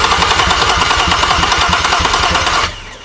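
A garage-built 2023 Nissan Z with a VR twin-turbo engine runs for a first start, idling with a loud, close, rapid rhythmic throb and a slight knock before cutting off abruptly near the end.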